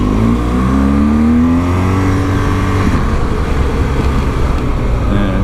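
A car drives past a motorcycle on the road with a loud, continuous engine roar and wind rush that stay close and fill the whole stretch.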